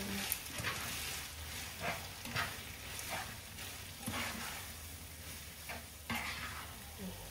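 Pasta with fresh cherry tomatoes is stirred in a pan, giving a steady sizzle and scraping sounds with intermittent clinks of utensil against the pan, fairly quiet and with no voices.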